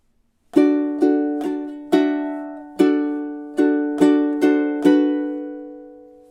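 A ukulele plays measures 17 and 18 of Jimmy Buffett's Margaritaville, nine crisp strummed and plucked notes in a lilting rhythm, each ringing and fading, close and alone.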